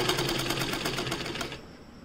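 A sewing machine runs a single straight line of stitching through a neck facing strip cut to the square neckline shape, a steady rapid close whir that stops about three quarters of the way through.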